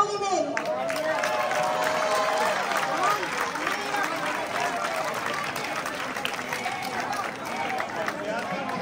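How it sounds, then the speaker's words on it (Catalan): Applause and crowd noise at a Moors and Christians festival in Catarroja, honoring Consuelo Jiménez, captain of the Moors; steady dense clapping with crowd babble throughout, fairly distant and sustained. "¡Un aplaudimiento!"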